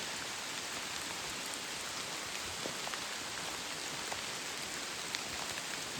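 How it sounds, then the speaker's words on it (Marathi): Heavy rain pours down steadily during a rainy forest camping trip, a dense unbroken hiss of drops on surfaces with scattered nearer patters, and no voices. "पाऊस जोरात आहे"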